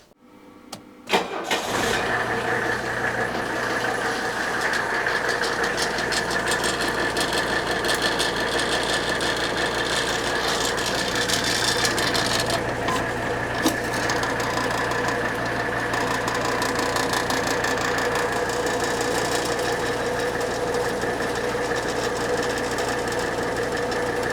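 A Mercedes W123 engine cranks briefly, catches and settles into a loud, steady idle with a low, even hum that runs on unchanged, close up and with no talk.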